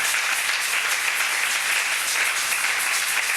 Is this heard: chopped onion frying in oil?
no